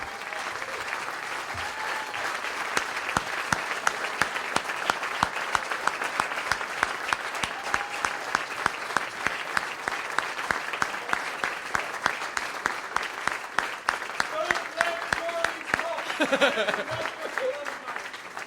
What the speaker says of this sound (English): I want to do a standing ovation for these guys that have impacted the community, this university.